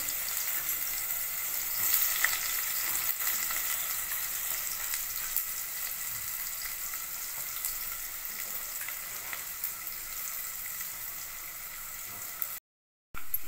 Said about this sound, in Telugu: ఆనియన్స్ అనేవి గోల్డెన్ బ్రౌన్ కలర్ వచ్చేంత వరకు ఫ్రై చేసుకోండి.